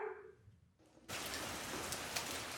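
Steady rain falls on a weekend outside a small theater in Sinchon, a dense, even hiss that starts abruptly after a brief quieter moment and continues at a constant level.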